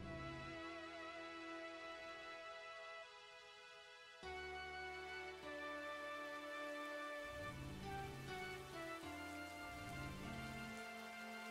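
Ambient rain in the game Old School RuneScape, a quiet, continuous soft patter running beneath layered game music with sustained tones and low notes.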